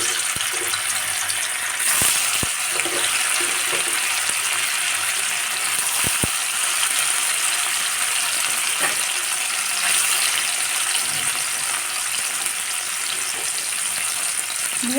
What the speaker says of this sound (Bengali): হালকা করে লাল করে ভেজে তুলে নেব